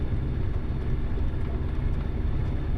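A light aircraft at Gatton Airport on short final for a full-stop landing on runway 19, its steady engine drone continuous and moderately loud, with no speech over it.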